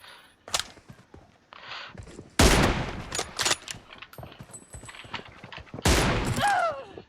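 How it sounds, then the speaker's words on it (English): Bursts of gunfire from the mobile battle-royale game PUBG Mobile, several loud broadband shots and volleys spread across a few seconds, with quieter game sounds between them and no talk. "আমি ফায়ার দিচ্ছি তো।"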